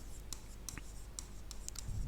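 Marker writing on a board during a biology lecture, a quick series of short squeaky strokes and taps over a quiet room hum.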